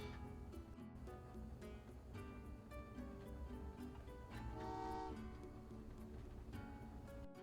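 Trains running on rails in the video game Train Valley 2, with a continuous rolling rumble, layered tonal horn or whistle notes and a soft ticking over steady game background sound.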